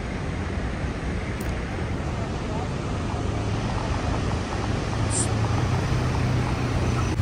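Rushing river water roars steadily past a dam in the Neelum Valley, a dense, continuous broadband wash with wind noise buffeting the microphone and no breaks throughout.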